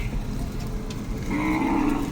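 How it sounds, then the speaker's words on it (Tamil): Bargur cattle low nearby as they are herded at a market in rain, a deep drawn-out moo rising near the end over a busy outdoor background. "இங்கே பாருங்கள், பர்கூர் மாடு ஓட்டிகிட்டு வராங்க பாருங்கள்."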